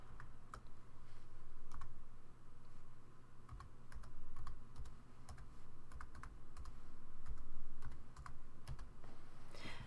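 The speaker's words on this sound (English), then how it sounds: "I'm going to hold the Shift key down and push the number 2." Someone types on a computer keyboard, pressing Shift and number keys, with scattered crisp clicks in short bursts over a quiet room hum, no talking.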